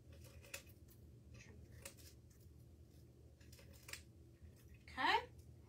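Scissors trimming craft grass for an Easter tiered tray decoration, a short burst of crisp snipping near the end after quiet rustling and handling noises.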